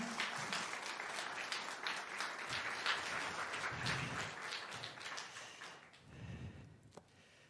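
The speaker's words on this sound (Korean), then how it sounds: "우리 교수님 나오실 때 따뜻한 축복의 박수로 함께 맞이하겠습니다" Church congregation at a Korean deacons' seminar gives warm welcoming applause for a visiting professor, an even wash of clapping that fades toward the end, with a few scattered louder claps and a brief voice near the close.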